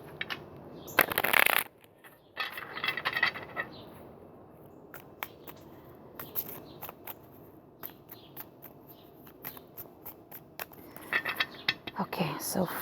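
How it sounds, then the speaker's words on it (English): Tarot cards are shuffled by hand in close, crisp riffling bursts, with a long quieter stretch of soft card taps and slides between the louder shuffles. "Let me just shuffle these this way."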